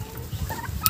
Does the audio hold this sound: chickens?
yes